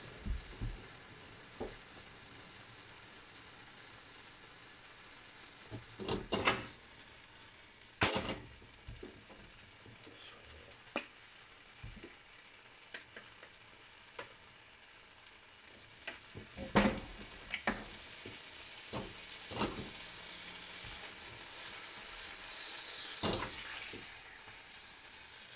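Food browns in a pan with soy sauce, a soft steady sizzle broken by sharp clatters of a utensil scraping and stirring at irregular intervals, close by and without talk.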